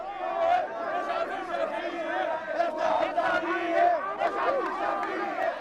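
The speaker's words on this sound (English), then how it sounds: "The crowd tries to break through the cordon to harangue Prime Minister Shafiq at the parliament buildings" Dense protest crowd shouting and chanting near parliament buildings, many voices overlapping in a loud, continuous roar with rising cries throughout.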